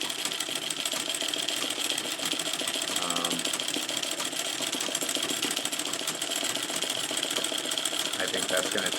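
A treadle sewing machine running continuously during machine embroidery, a steady, dense mechanical whir and rapid needle chatter held at an even level throughout, with no pauses.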